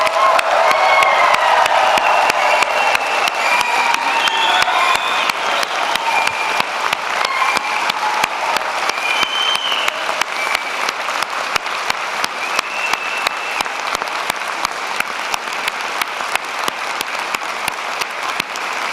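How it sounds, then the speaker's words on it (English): A large audience at a university graduation ceremony applauds for about nineteen seconds, dense and sustained at first with some cheering, then thinning into steady clapping that echoes through the hall. "I invite our faculty, family, and friends to join me with a massive round of applause congratulating our graduates of 2022."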